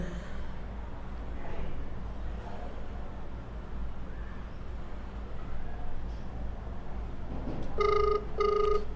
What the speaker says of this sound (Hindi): पहले अपने फ्रेंड से कॉल लगाते हैं।